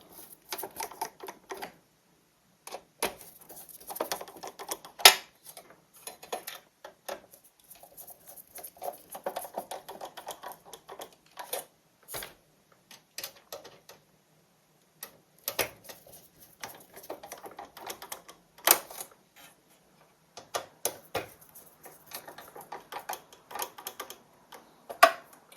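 Screws being tightened on a Korg Triton Le keyboard under repair, quiet close ticking and clicking in irregular bursts separated by short gaps.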